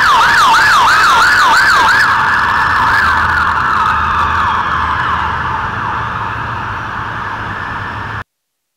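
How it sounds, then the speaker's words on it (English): Police car sirens wailing at a nearly empty Houston airport terminal during a hurricane, a rising-falling wail that shifts to a slower, steadier tone before fading into a distance and cutting off. "a lot of police cars driving around, keeping an eye on things here"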